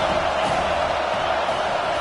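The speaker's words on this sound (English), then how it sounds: "this crowd trying to help keep them there" Steady, dense crowd roar in a college football video game, a Miami dynasty season in NCAA 25, as the home crowd presses a team pinned deep in its own end; loud, continuous and even throughout with no individual voices standing out.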